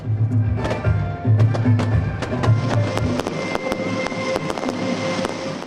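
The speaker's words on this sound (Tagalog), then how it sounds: "nagliwanag ang paligid sa makulay at maingay na community fireworks display" Fireworks from a midnight community display crackle and pop in a steady barrage of sharp bursts over a low rumbling crowd murmur, loud and continuous throughout.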